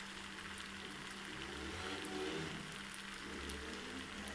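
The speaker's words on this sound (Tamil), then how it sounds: "வடையாக தட்டி டைரெக்டாக எண்ணெயில் போட்டு ஃப்ரை பண்ணுறேன்." Hand-flattened vada drops straight into hot oil and deep-fries with a steady, even sizzling hiss, moderately quiet and unbroken, with no voices.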